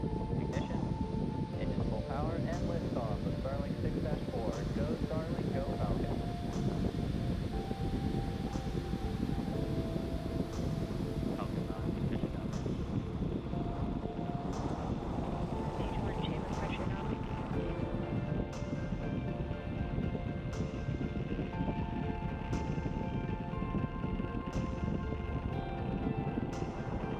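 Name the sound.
SpaceX Falcon 9 rocket launch rumble from distance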